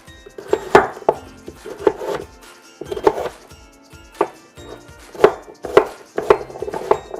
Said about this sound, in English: going to cut them into about 1/2-inch pieces